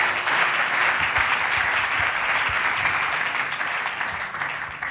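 A church congregation applauds the Lord at a testimony service, a dense, steady wash of many hands clapping close by, loud and sustained throughout, with faint voices mixed underneath.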